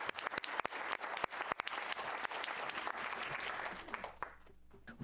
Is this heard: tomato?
no